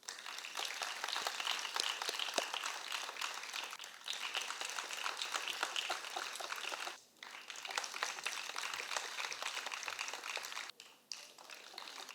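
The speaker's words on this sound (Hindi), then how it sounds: "दर्शकों, आपकी तालियों की गड़गड़ाहट रुकनी नहीं चाहिए।" An audience applauds after a sitar concert by Ustad Shahid Parvez at a SPIC MACAY event, with dense, sustained clapping from a large crowd filling the hall that dips briefly twice.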